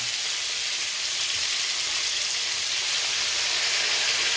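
Pork with sauce frying in a pan, a steady broadband sizzle and hiss sustained throughout at moderate level, no talking.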